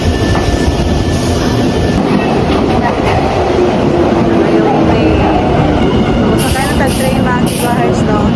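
A train moves through a station with loud, continuous rumbling and wheel clatter, broken by brief high squeals near the end.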